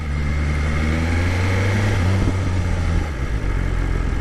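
A motorcycle engine idling in first gear in a pit lane, a loud steady low drone with a slight waver in pitch, close and continuous.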